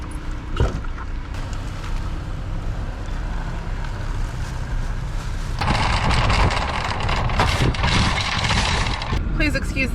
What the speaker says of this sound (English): Please excuse the sound of the air conditioning.